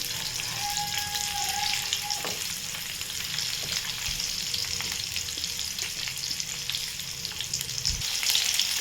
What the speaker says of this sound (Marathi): अर्धा मिनटं कांदा तेलामध्ये फ्राय केला आहे